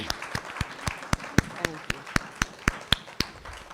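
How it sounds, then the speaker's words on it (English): Scattered, slow clapping at a school board meeting, roughly a dozen sharp individual claps spaced evenly across a few seconds rather than a full crowd ovation, with some voices in the room underneath. "let's give our board members a wild round of applause"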